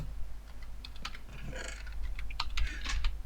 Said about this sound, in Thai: พยายามกดพิมพ์นะเว้ย